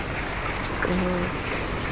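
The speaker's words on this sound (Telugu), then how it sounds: "అంతటా చాలా వర్షాలు పడుతున్నాయి కదా" Steady heavy rain during a storm in Telangana, a continuous broadband wash of falling water with faint background sounds, no clear talk over it.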